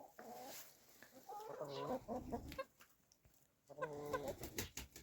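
Chickens outdoors, including a young hen, cluck and squawk in short repeated bursts at close range, fairly soft, with light background noise between calls.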